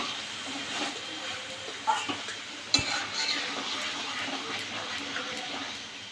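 Raw boal fish tipped into a pan of softened onion greens and stirred, giving a soft steady sizzle with scattered scraping and clinking of utensil against the pan, and one sharper knock partway through.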